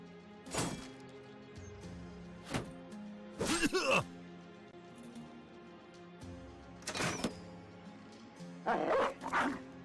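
Dog barks and yelps inside the video game Battle Brothers, several separate bursts spaced a few seconds apart over a low, steady backdrop of game music, with no talking.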